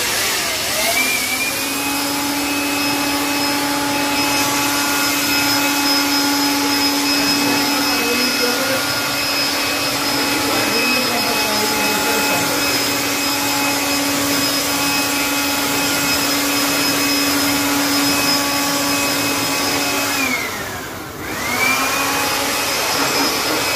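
A compressed-air blower roars steadily while clearing dust from inside a large 690V variable frequency drive during maintenance, a loud continuous whine with a brief dip near the end before the blast resumes.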